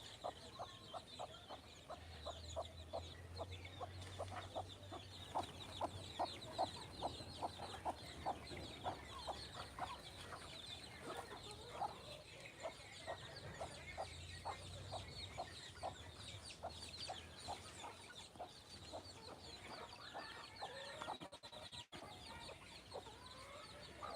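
Domestic chickens and their chicks cluck and peep steadily at a farm, a dense continuous chorus of soft calls, with faint low hum in the background.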